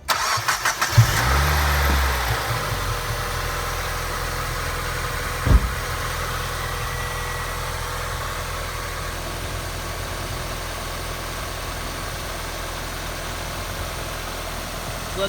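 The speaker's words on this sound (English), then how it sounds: "first startup from the oil change" A 1990–2005 Mazda Miata engine cranks and catches on its first start after an oil change, then settles into a steady, even idle that runs on alone at close range.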